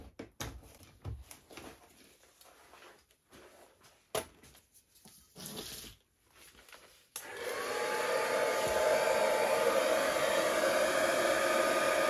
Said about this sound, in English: So I'm going to blow this out with the hairdryer